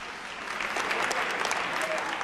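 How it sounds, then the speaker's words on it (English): Audience applause at a town hall meeting held in a school venue: a broad, even wash of clapping from many hands, heard from some distance and sustained without pause. "Please give a round of applause."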